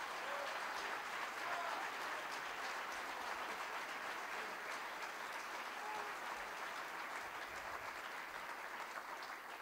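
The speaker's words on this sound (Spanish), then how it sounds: "Un aplauso muy fuerte para Vilma Powell." An audience at a live music performance applauds steadily and evenly throughout, a soft, distant-sounding wash of clapping with no voices standing out.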